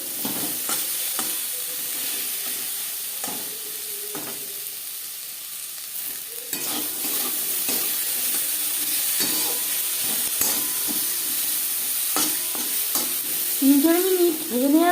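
Vegetables fry in a pan for a homemade chicken momo and carrot chutney dish, a steady close sizzle broken by repeated scraping stirs of a spoon against the pan, with brief louder scrapes near the end.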